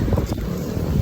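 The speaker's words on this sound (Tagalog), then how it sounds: "Sobrang lakas ang hangin." Strong wind buffets the microphone in a steady low roar, loud and continuous throughout with no talking.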